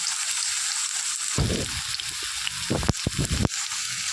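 Potatoes frying in oil for chow mein produce a steady sizzling hiss, broken by several short rustling, scraping bursts as they are stirred in the pan.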